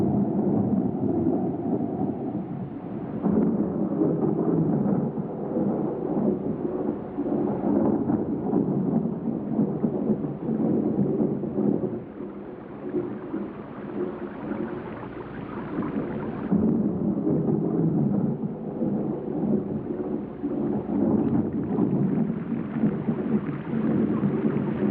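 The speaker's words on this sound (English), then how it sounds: "Stormy weather and downpours present a serious problem to the new bees" Steady heavy rain pours down through a thunderstorm, with low rumbling thunder rolling beneath a dense, continuous hiss of downpour that holds steady for the whole stretch.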